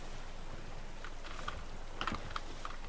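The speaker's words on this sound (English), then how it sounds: "I'm kind of self-conscious about how much noise my keyboard makes" A noisy computer keyboard is typed on at a quiet level, with scattered clicks that thicken into a brief flurry over a steady background hiss.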